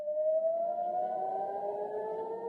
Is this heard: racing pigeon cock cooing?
no